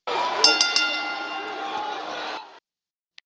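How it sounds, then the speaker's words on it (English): Bells ringing three times in a wrestling podcast studio, bright metallic clangs with a ringing tone that sustains and fades after a couple of seconds, then a brief click before silence. "Are those bells for me?"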